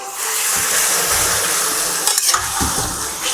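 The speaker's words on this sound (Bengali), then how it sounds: "প্রথমে 3 থেকে 4 মিনিট একটু চড়া জালে আমি নাড়ব" Chicken curry, Goalondo steamer style, stirred in a pan over high heat gives a steady, loud sizzle with scraping strokes of the spoon throughout and a few sharper knocks near the end; no one speaks.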